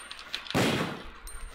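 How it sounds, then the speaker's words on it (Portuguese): A single gunshot fired in a Resident Evil 2 mod video game: a sudden loud blast that decays over about half a second, set against quiet game ambience. "Um tiro."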